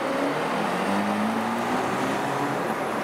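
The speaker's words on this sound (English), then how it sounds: "It's a weird sounding V8." A Mercedes-AMG Black Series V8 on a London street, an odd-sounding engine note that rises steadily as the car accelerates past, held as a continuous loud drone over traffic noise.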